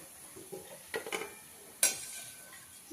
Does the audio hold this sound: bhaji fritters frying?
yes